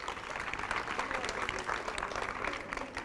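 An audience claps steadily for about three seconds at a community mural presentation. The applause is fairly faint and even, like a mid-sized indoor crowd.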